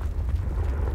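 A Confringo fire spell explodes in Hogwarts Legacy, a deep low rumbling blast that fills the whole short moment with boomy energy, loud and close, with no talk.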